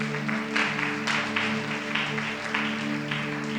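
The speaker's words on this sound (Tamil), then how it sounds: "கைதட்டுங்க பார்க்கலாம்." A congregation at a Tamil Sunday church service claps in a steady rhythm, roughly two beats per second, over sustained keyboard-like musical tones.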